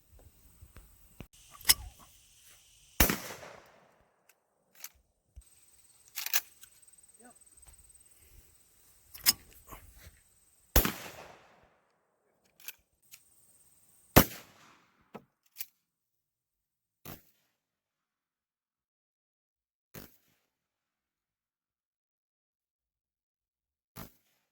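Target shooting with .22 rifles, shotguns and a 30-06 rifle: a dozen or so sharp, isolated reports spaced irregularly, some loud and ringing, later ones fainter and more distant, with quiet gaps between.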